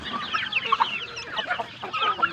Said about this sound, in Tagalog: Ito yung mga manok namin dito na alaga.